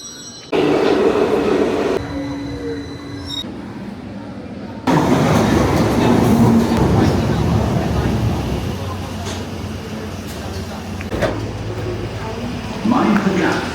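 London Underground tube train running toward Waterloo, a loud continuous rumble of wheels on track with rattling carriage noise and occasional squeals, surging after a brief pause, with people talking over parts of it.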